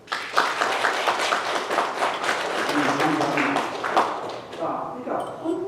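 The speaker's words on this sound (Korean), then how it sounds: "우리 박수 한번 할까요?" A church congregation at a Sunday service claps for a visiting instrumental ensemble, a moderate patter of hands mixed with talking voices that fades toward the end.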